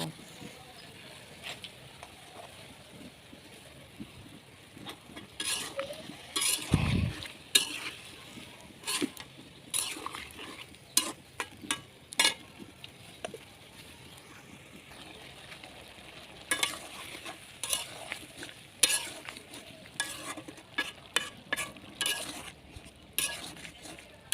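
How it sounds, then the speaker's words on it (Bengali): Potatoes and long beans sizzle in a pan while a spoon scrapes and stirs in repeated bursts, with a voice speaking at times. "এখন আমি এখানে আলু আর বরবটিটা দিয়ে খুব ভালো করে কষিয়ে নেব"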